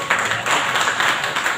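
A large audience at a Shiv Mahapuran katha religious gathering in Somnath, Gujarat, claps in dense, continuous applause, loud and steady throughout.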